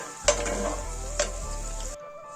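Frying in sesame oil until golden, a steady close hiss of hot oil with a low hum beneath and two distinct clinks of a utensil against the pan, ending abruptly.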